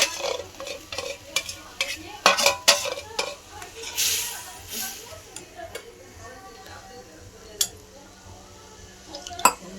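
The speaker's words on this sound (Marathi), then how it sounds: "मस्त हलवून घेऊ." Besan batter is stirred in a cooking pot: close, irregular spoon scrapes and sharp clanks against the metal, clustered early and then sparser, over a soft bubbling sizzle.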